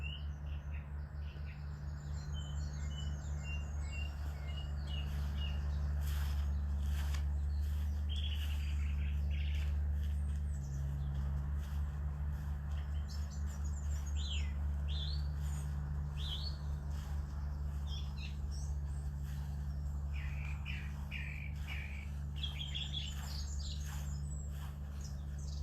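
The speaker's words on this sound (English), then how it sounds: "It's just hearing the bird song." Morning birdsong in St John's Lodge Garden, Regent's Park, London: several birds chirp and trill at a moderate distance over a steady low background hum, with no talking.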